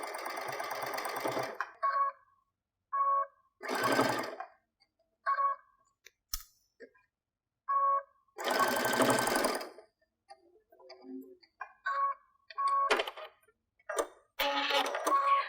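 Patchwork stocking fabric runs through a sewing machine in short, separate bursts with clear pauses between them, each run lasting only a second or so, close and distinct with no one talking.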